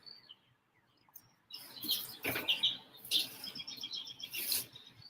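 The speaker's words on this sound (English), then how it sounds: "Those birds that you hear are the" Birds chirping and singing outdoors in short bursts of high tweets, fairly close, after a quiet opening.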